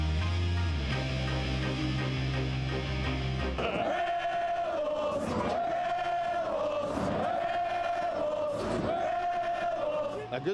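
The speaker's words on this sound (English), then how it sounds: "A good-sized crowd and a packed student section for the Silver State showdown" Basketball arena crowd with a packed student section at a college rivalry game, a dense roar of chanting and cheering voices that rises and falls in rhythmic swells over a sustained low tone.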